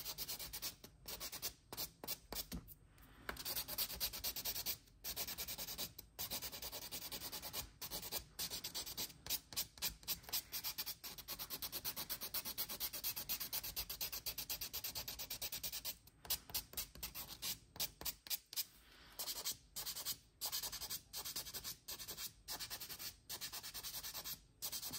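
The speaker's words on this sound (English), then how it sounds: "When you're filing and buffing, you want to make sure you're" Dip powder nails being filed and buffed, a steady close rubbing and sanding scrape that runs nearly throughout in quick strokes with brief pauses.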